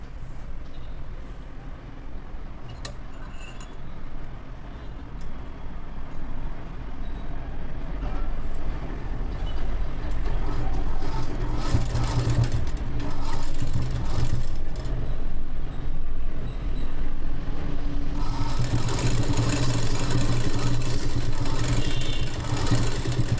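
A sewing machine stitches a blouse, its motor running as a continuous mechanical whir that builds and stays loud, steady through most of the stretch with no talk over it.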